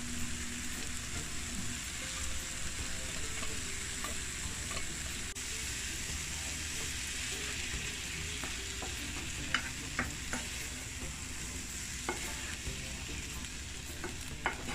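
Sweet Thai chili sauce with salmon bubbles and sizzles quietly in a pan, a continuous soft hiss with occasional light clicks and taps later on, no voices heard.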